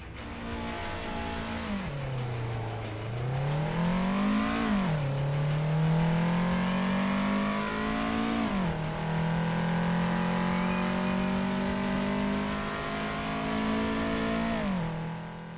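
In the Assetto Corsa driving game, a stock Toyota AE86 accelerates down a drag strip, its engine note climbing steadily through each gear before dropping at every shift, a loud continuous run of rising revs with no talking.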